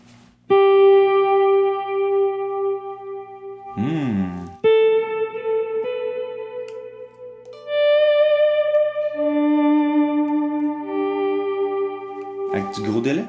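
An electric guitar plays sustained, ringing notes drenched in reverb and echoing delay, each chord washing out slowly, with a few sharp strums between.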